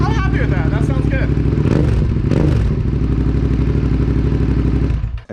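A restored Suzuki SV650 motorcycle idles loudly and steadily through a new, quieter exhaust that replaced a straight pipe, with a person talking over the engine's drone before it cuts off.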